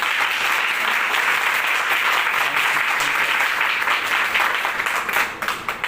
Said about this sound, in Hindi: चलिए हम यीशु के लिए जोर से एक ताली मारेंगे।